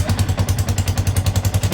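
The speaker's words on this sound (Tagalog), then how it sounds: "Butas ang tambutso guys." Yamaha Sniper 150 motorcycle with a holed exhaust, its engine running close by in a loud, steady rhythmic putter of regular throbbing pulses.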